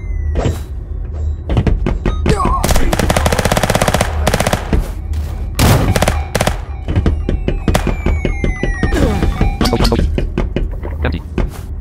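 Rapid machine gun fire in the video game Crime Hunter, dense loud bursts of shots in quick succession throughout, with occasional clinks between volleys.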